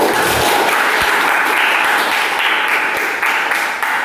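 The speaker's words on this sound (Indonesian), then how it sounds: "Coba tepuk tangan dulu untuk Wahyu." Classmates in a school classroom applaud a student named Wahyu after a Quran recitation, a dense, steady patter of many hands clapping together for a few seconds, fairly loud and close.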